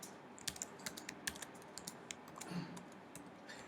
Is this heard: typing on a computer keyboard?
yes